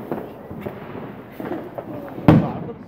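Fireworks on Bonfire Night: faint distant pops and crackles under low voices, then one louder, sharp bang near the end.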